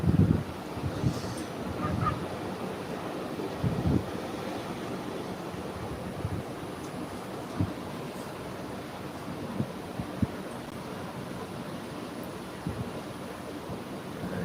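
Light sea waves wash ashore at Kuakata beach in early morning, a steady surf hiss under gusty wind rumbling against the microphone with a few stronger gusts.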